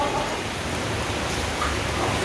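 Steady rain falling on a rooftop, a dense continuous hiss of drops without pauses.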